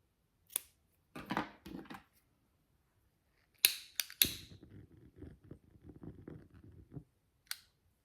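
Scissors cutting paper for a craft project indoors at night: a few separate close crisp snips, then a longer run of rapid crunchy cutting, ending with one more short snip, no talking.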